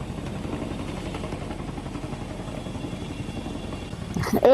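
Airplane engine droning steadily as the plane comes down to land in the game VRC, a moderate continuous hum with louder noise rising at the very end.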